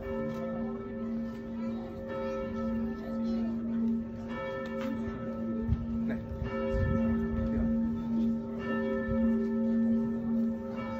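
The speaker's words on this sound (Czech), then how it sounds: "Takže poprosíme, aby zvonici mohli a začali zvonit." Church bells ringing in the tower of St. Barbara's church after their return, a steady sustained peal with layered overlapping tones and clangs, continuous and fairly distant.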